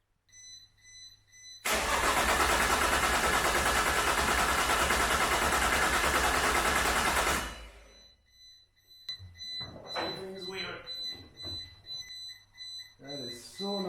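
A rebuilt 600 hp Nissan RB26 engine with no exhaust fitted cranks on its first start attempt: a loud, raw, continuous roar for about six seconds that cuts off abruptly, followed by quieter clanks and handling noises.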